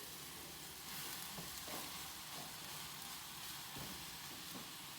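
Greens wilt in a hot pan for a breakfast scramble, giving a continuous soft sizzle broken by a few light scrapes and knocks as they are stirred. No one speaks.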